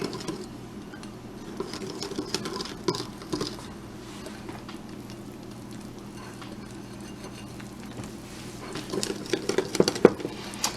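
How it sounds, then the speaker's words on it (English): Red velvet brownie batter whisked in a bowl, with a soft rapid patter of the whisk against the sides and scattered clinks that grow busier near the end, close and without talk. "And whisk that together until it's combined, being careful not to overmix it."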